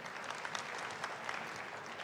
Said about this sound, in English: Let's clap for the kids real quick.